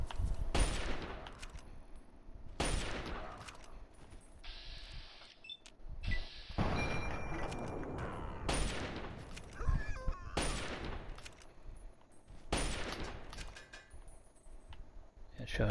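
Gunfire in Fallout 3 on the Xbox 360: repeated loud shots and short bursts crack out every second or two over a busy bed of game noise, with a few mechanical clicks in between.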